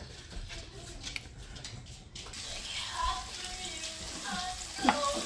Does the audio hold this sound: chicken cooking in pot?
yes